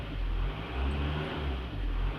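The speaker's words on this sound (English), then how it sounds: "Let's rev her." A VW Transporter T5 van's 1.9 TDI diesel engine revs up and drops back a few times in quick pulses, a loud close-up rumbling drone.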